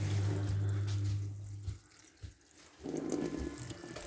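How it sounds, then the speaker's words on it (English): Water gushes from a tap in a steady stream, briefly dropping away before running again with a brighter splash, close and fairly loud. "In there, turn on the water."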